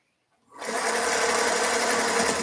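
A sewing machine stitches pieces of fabric together, starting after a brief silence and then running as a steady, close, loud mechanical whir with a fast rhythm and no break.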